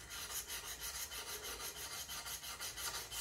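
A wooden spokeshave blade is rubbed back and forth on an abrasive during sharpening, an even rhythm of soft rasping strokes at about three per second, close and quiet.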